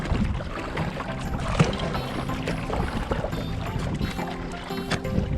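A kayak is paddled at sunset, with soft splashes and drips of the paddle dipping into calm water in an unhurried rhythm, close and moderately quiet.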